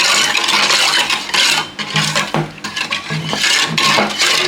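A spoon stirs four spoonfuls of sugar in a bowl while mixing naan dough ingredients, giving close, loud, rhythmic scraping and clinking strokes against the bowl with brief pauses between them.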